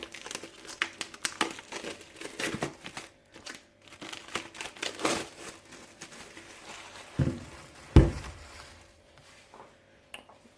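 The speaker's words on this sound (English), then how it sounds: "let's take the plastic off and have a look inside" Plastic shrink wrap is peeled and crinkled off a comic omnibus in irregular crackling bursts, close to the microphone, with a single sharper tearing snap near the end and no speech.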